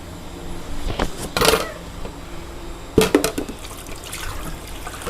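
Water is poured into a pot of Thai yellow pork curry in two short splashing bursts, close and moderately loud, separated by a quiet pause.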